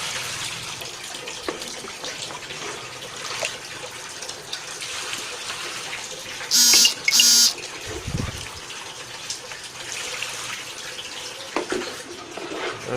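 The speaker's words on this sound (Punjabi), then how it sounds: "ਇਹਨੂੰ ਪਾਣੀ ਇੱਥੋਂ ਕੱਢਾਂਗੇ" Water drains out of a vessel during home preparation of gaozaban (borage) arq, making a steady running, gushing wash. A couple of sharp, bright clinks cut in midway.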